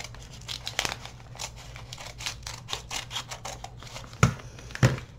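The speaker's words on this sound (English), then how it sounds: "I'm just going to slide my scissors in there and" Close, quiet snipping and crinkling as scissors cut open a taped envelope package, with irregular rustles and a couple of sharp clicks near the end.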